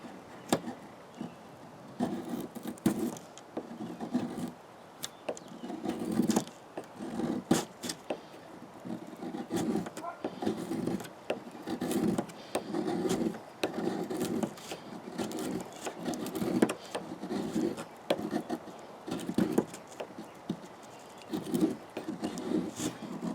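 A Manly Peak knife with a thin grind shaves and carves wood in a long run of quick, irregular scraping and cutting strokes, close and fairly soft, with no talking.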